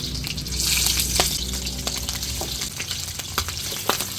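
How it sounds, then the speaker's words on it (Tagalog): A pork leg fries in a pan with a steady, close sizzle and crackle of hot oil, scattered pops and scraping clicks on top and no talking. "Atin din pong ipiprito. Pata ng baboy."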